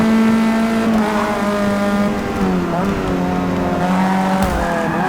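A race car in Forza Motorsport 6 screams along at high revs, its engine pitch rising and dropping through gear changes with occasional tire squeal, loud and continuous, while a person talks over the sound.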